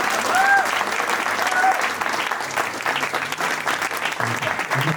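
Audience applause after a student's performance at a university student talent contest, a loud sustained burst of clapping from a crowd that continues evenly for several seconds, with a brief voice near the start.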